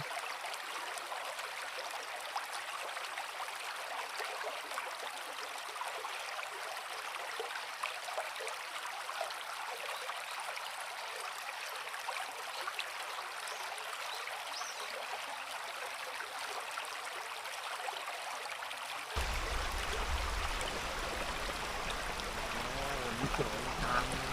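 A multi-tiered waterfall in Kanchanaburi, Thailand, roars with a continuous, full rushing hiss of falling water, loud and steady throughout, growing heavier and deeper near the end.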